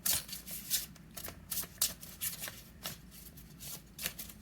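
Large angel oracle cards are shuffled by hand, giving a quick run of papery riffles and soft slaps in uneven bursts, close and fairly quiet.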